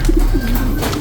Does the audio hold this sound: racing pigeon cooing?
yes